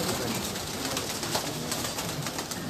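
Pigeons coo on a rooftop in an outdoor setting. Their soft, repeated calls are fairly faint and sit over a constant background wash, with no clear speech.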